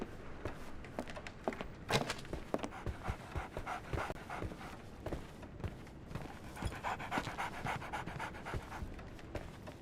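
A dog in the Sherlock Holmes The Awakened video game pants rapidly and steadily up close, with quick rhythmic breaths under faint footsteps and ambient noise throughout.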